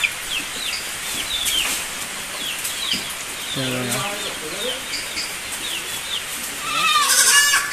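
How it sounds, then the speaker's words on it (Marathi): Goats being brought in one by one on a farm with chickens nearby, with bleats and clucking calls scattered through a constant outdoor background, plus a brief burst of bird calls near the end. "बघू शकतात बकऱ्या घेऊन येत आहेत."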